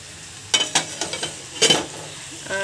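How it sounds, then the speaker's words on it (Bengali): Onions, garlic and bay leaves frying in a pan for chicken curry, with a few short bursts of sizzling and stirring scrapes at close range, followed by a quieter stretch and a faint tonal hum. "আর এখানে চিকেনের জন্য পেঁয়াজ ভাজা হচ্ছে, পেঁয়াজ রসুন আর তেজপাতা যা যা লাগে"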